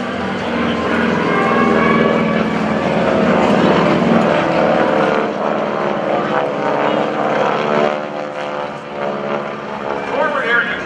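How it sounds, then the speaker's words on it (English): A flight of four GEICO Skytypers propeller aircraft passes over an airshow at NAS Oceana, their engines droning loud and close, swelling and shifting pitch as they sweep by beneath an announcer's commentary. "The flight of 4 aircraft approaches the enemy target"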